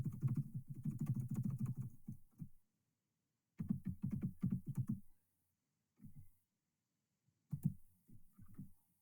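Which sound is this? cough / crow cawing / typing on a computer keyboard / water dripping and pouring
typing on a computer keyboard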